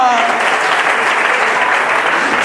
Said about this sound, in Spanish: Alguien aplauda fuerte